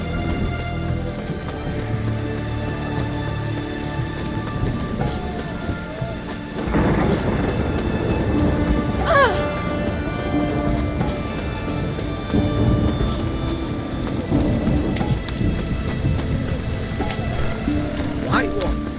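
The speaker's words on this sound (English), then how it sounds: "It's raining, of course it's going to be damp." Steady heavy rain pours in The Witcher 3 video game while thunder rumbles and cracks several times, with deep rolling booms rising over the constant hiss of falling water.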